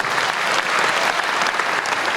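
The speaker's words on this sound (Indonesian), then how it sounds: "Kalau kau mau tepuk tangan, berikan tepuk tangan bagi Tuhan" Loud, dense applause fills a large hall at a youth jamboree church event, steady sustained clapping from a big crowd with no pauses.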